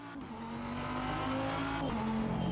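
A front-engine race car driven in the sim racing game Automobilista 2, its engine a loud, continuous close-up drone whose pitch climbs steadily under acceleration, with a brief dip as it shifts.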